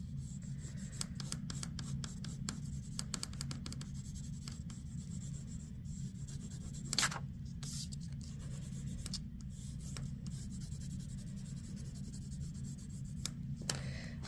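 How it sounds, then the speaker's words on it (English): Pencil shading on paper with heavy pressure, a steady close scratchy rubbing that runs continuously with small pauses and strokes, alone without talk. "That is your heaviest pressure with your pencil."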